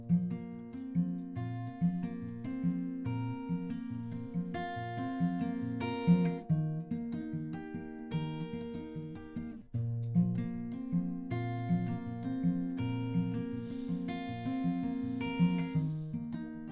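An acoustic guitar plays a fingerpicked transition passage from a song, with a steady rolling pattern of plucked notes over repeating bass strings, close and clear and with no voice.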